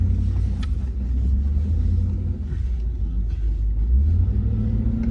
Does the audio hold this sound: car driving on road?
yes